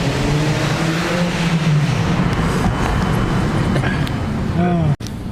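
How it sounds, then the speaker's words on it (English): A car engine at a parkade show drones loudly and continuously, its pitch rising and falling in sweeps, then cuts off sharply near the end before a brief return. "I need to hear the car."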